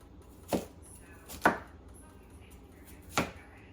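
A knife chops fresh, fibrous ginger on a cutting board for vegan kimchi, three distinct, fairly loud thuds spaced unevenly over a few seconds, close by with quiet pauses between.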